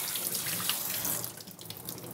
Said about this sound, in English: I'm going to run just a little bit of cold water over them